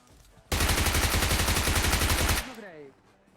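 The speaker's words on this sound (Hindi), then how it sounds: "कोई वहां पे बैठ के गोली चला देता है" Automatic gunfire in the video game PUBG Mobile erupts as a loud, continuous rapid burst of shots lasting about two seconds, then cuts off into a short ringing tail.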